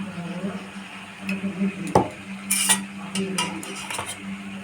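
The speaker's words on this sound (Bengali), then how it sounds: "মিশ্রণটা চামচের সাথে ঘেঁটে নেব।" A spoon stirs cornflour and water in a bowl with brief clinks and scraping, several faint knocks and one sharper tap.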